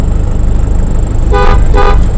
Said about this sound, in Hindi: हॉर्न यहाँ है।